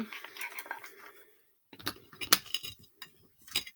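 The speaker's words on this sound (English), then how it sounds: "I'm just going to pop the lid on it" A lid pressed onto a small glass spell jar gives a few sharp clicks and taps, close and fairly quiet, with a brief pause before the knocks.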